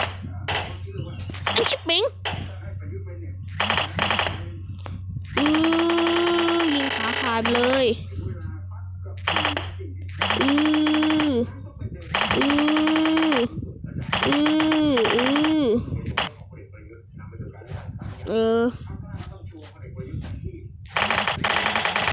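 Video game gunfire while shooting at a boss, rapid automatic bursts in repeated loud volleys with short gaps, mixed with lively talk and game sounds.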